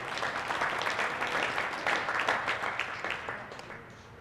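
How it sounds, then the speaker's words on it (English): Scattered crowd applause in a school gym at a high school boys varsity basketball senior night, a modest burst of clapping from a small audience that swells, then thins and fades toward the end. "I do want to give a quick round of applause for Corey as well"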